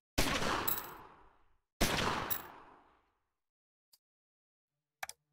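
Two heavy gunshots from the crime strategy game Omerta: City of Gangsters, each a loud sharp blast with a long decaying echo, followed by two faint clicks near the end.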